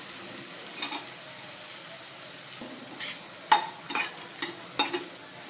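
Dingri radish pods with salt cooking in a pan, a soft steady sizzle with a few sharp clinks and scrapes of a spoon stirring against the pan, no talk.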